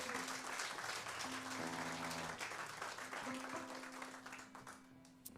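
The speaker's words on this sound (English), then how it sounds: "So please give them a round of applause." An audience applauds a band at a live concert, a dense, steady wash of clapping that slowly tapers off, with a sustained low instrument tone and faint voices beneath it.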